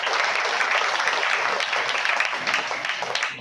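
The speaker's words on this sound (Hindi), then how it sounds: "एक बार गुरु जी के लिए जोरदार तालियां।" A crowd at a devotional satsang gathering gives a spiritual teacher hearty applause, a dense, steady wash of clapping that continues throughout before tapering at the end.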